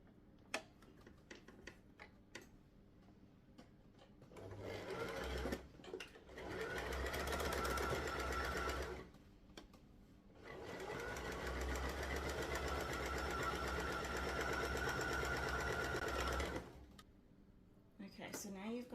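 A sewing machine stitches a fabric scrunchie in two sustained, steady runs separated by a short pause, close and fairly loud, with a few light clicks and handling sounds before and after.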